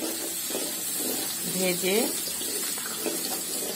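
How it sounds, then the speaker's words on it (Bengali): Spice paste sizzles and hisses steadily in a hot pan while frying for a rohu fish head curry, a constant bright crackle with a voice briefly heard over it. "এখন মশলাটা ভালো করে ভেজে নিই"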